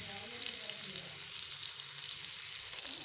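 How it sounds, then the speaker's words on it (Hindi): Onions fry in hot oil in a kadhai, giving a steady close crackling sizzle with faint stirring. "अब हम इसमें प्याज ऐड करेंगे।"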